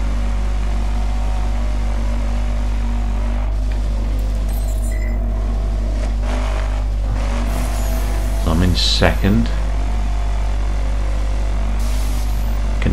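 Continuous engine hum of a racing car in the video game The Crew, with a brief whining rev and screech midway, under a speaking voice.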